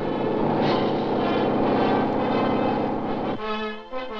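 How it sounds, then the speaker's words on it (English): Helicopter carrying President Eisenhower and Prime Minister Menderes to the airport in Ankara, Turkey, in December 1959. It makes a loud, close, steady engine drone with rhythmic rotor beating, and the tone shifts near the end. "President Eisenhower and Prime Minister Menderes helicopter to the airport"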